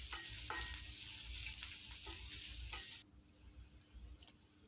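A pan of chopped medium onion with tempering spices and curry leaves frying: soft sizzling with a few stirring knocks, faint and close, which drops abruptly to a quieter hiss near the end.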